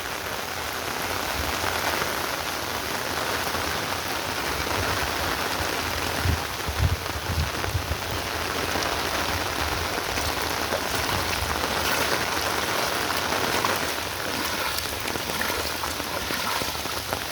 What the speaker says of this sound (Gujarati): એટલો વરસાદ પડ્યો ફૂલ.